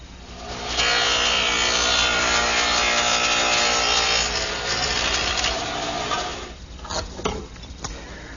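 A dado head cutter runs through wood partitions in one loud, sustained cut that lasts several seconds, then winds down to scattered knocks and rustles.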